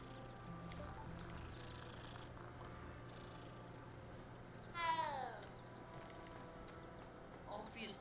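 A cat in a magic-school video game lets out one clear, drawn-out meow midway, with a softer short mew near the end, quiet over low game ambience.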